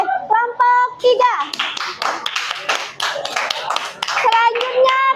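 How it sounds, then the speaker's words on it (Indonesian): An audience applauds for group 3 at a school presentation: a burst of many hands clapping loud and close, mixed with children's voices and excited calls throughout. "Kita kasih aplaus untuk kelompok 3."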